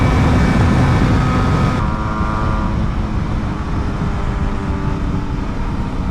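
A BMW HP4 Race motorcycle rides at speed, its engine a steady roar under heavy wind rush, the tone dropping slightly partway through.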